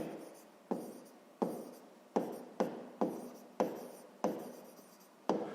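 A pen writes a math solution on paper by hand in a quiet room: short scratching strokes close by, roughly eight or nine of them in an uneven rhythm.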